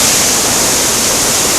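Benlister Falls near Lamlash roaring in spate after heavy rain, a loud, dense, unbroken rush of falling water filling the whole clip with no other sounds.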